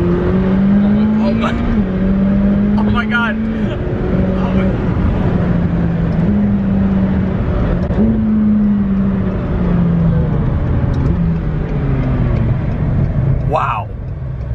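McLaren 720S sports car accelerating hard, its engine note climbing and dropping through repeated gear changes in a loud, close, sustained roar, with excited exclamations from a person over it.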